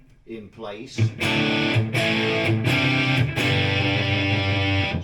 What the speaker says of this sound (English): It's a nice soft distortion.